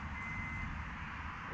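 A truck reversing gives off a steady, piercing high beep that holds continuously over a dense, low background rumble, fairly loud and close.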